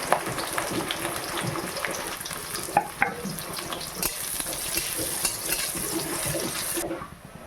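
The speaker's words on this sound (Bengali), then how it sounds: "তো আমার তেল গরম হয়ে গেছে, দিয়ে দেবো গোটা গরম মশলা, তারপর দিয়ে দেবো তেজপাতা, তারপর দিয়ে দেবো পেঁয়াজ কুচি" Chopped onion, whole garam masala and bay leaf frying in hot oil, a steady loud hiss with occasional pops and stirring scrapes, close up, ending abruptly.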